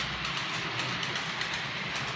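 A model railway train runs steadily along its track at a layout junction, giving a continuous soft rolling rumble with faint rhythmic clicking over the rail joints, fairly quiet and with no voices.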